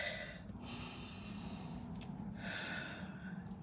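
A person draws two slow, audible breaths, each a soft airy inhale, heard close and alone against a steady low background hum during a guided meditation about connecting with a dragon.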